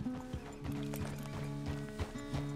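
A horse walks steadily on a farm, its hooves clip-clopping in a regular rhythm close by, alongside sustained tonal sounds in the background.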